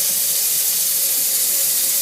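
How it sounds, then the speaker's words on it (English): Steady water running from a tap, a continuous even hiss with no breaks, close and fairly loud. "So I'm going to run some water."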